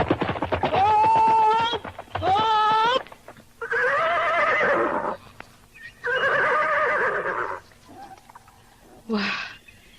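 Horses neigh and whinny repeatedly in an Indonesian radio drama scene about travelers on horseback, loud and close, with long rising calls separated by short pauses.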